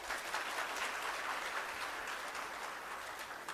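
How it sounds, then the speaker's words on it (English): A seated audience at a 2017 debating and public speaking contest claps in a steady, even wash of applause that holds its level for several seconds without voices. "Please give a bigger clap to yourself."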